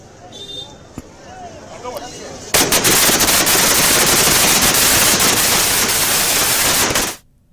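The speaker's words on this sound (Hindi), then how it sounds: "संतों के साथ में आतिशबाजी कर जश्न मनाया" A dense, loud barrage of rapid crackling bursts from celebratory fireworks, like a long string of firecrackers, erupts after quieter background chatter and runs for several seconds before stopping abruptly.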